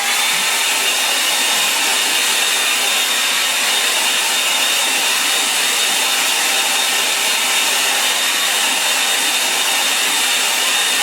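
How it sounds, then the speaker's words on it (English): A hairdryer blows steadily and loudly on a watercolour painting done in raw sienna, alizarin crimson and Payne's grey, a constant uninterrupted whoosh with no talk over it. "I'll dry that off with a hairdryer."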